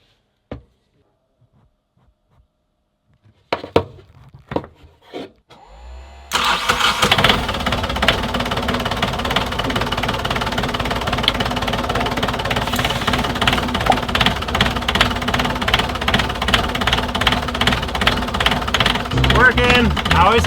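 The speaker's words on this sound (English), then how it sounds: "let's try it out and see if the engine starts that way." Boat engine started from the starter battery after a lithium battery changeover: a few clicks and brief cranking, then the engine catches and settles into a loud, steady close-up running rumble, with a voice speaking early on.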